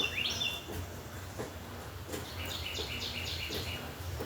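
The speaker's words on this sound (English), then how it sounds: "Y'all hear the birds?" Birds sing outdoors, a bright rising chirp early on and then a run of quick repeated tweets, faint and somewhat distant over a quiet background.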